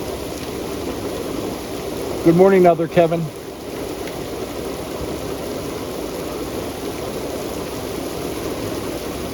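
Rain falls steadily at Fulton Harbor, an even wash of patter throughout, with a brief spoken greeting partway through.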